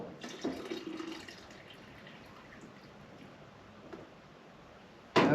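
Water running and splashing from a countertop dishwasher dump tank held low, a faint steady trickle with brief louder gurgles at the start and a sharp clatter at the end.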